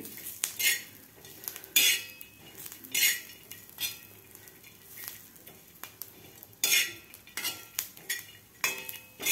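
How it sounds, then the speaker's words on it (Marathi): Garlic cloves and ginger roasting with masala in a pan, heard as repeated metal spoon scrapes and clinks against the pan over a soft sizzle, close and fairly loud with no talk. "ते सुद्धा आपल्याला 1 मिनिटभर ह्या खालच्या मसाल्याबरोबर भाजून घ्यायचं आहे"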